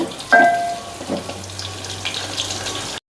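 Garlic frying in oil in a pan for shenga (peanut) sambar gives a steady, soft sizzle and crackle for about three seconds, with no talking.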